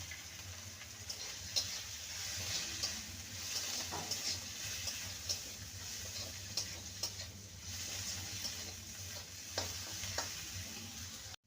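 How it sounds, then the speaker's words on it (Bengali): Ginger garlic paste and chopped green chillies sauté in a pan, a soft continuous sizzle under repeated light scrapes and clicks of a stirring spoon, steady and close, with no voices. "আদা রসুনকে ভালো করে কষিয়ে নিয়েছি"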